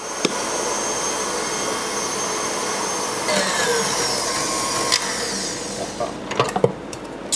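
An electric mixer whips egg whites with sugar in a pastry kitchen, making a steady whirring drone with a few clicks and knocks toward the end.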